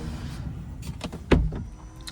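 Power windows in a BMW 5 Series hum briefly as they move, with a few soft clicks and a sharper thud near the end inside the cabin.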